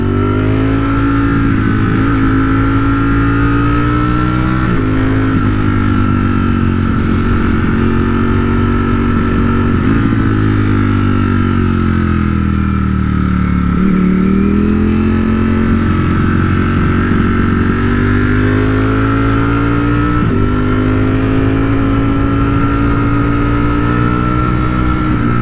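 A Ducati Streetfighter V4S motorcycle revs up and down on canyon roads, a loud, close, continuous engine note rising and falling through the RPM range with smooth gear-change dips, no talking over it.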